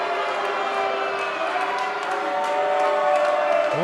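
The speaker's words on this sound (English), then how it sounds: "Crowd not happy with Shane Thorne." A virtual arena crowd in a WWE 2K NXT match jeers wrestler Shane Thorne, a broad, continuous crowd roar that holds steady and swells slightly toward the end, with commentary voices running over it.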